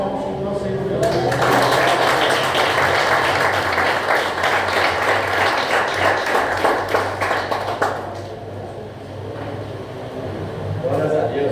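A church congregation claps together in a sustained, dense burst of applause that fills most of the clip, then tapers off near the end, with a preacher's voice speaking over it.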